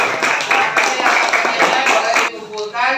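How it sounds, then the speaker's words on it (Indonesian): Classmates in an elementary school religious education lesson clap for a group, a brisk run of steady claps lasting a few seconds, with a voice talking over the end. "tepuk tangan untuk kelompok kalian"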